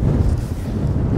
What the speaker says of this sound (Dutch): Het staat wel een flinke wind.